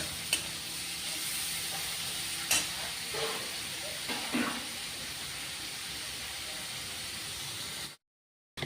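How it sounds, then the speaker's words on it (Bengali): Prawns fry in a pan with a continuous close sizzle broken by a few light clinks and stirring sounds, then the sound cuts off abruptly. "ভেজে নিচ্ছি। ভেজে নেব ভালো করে।"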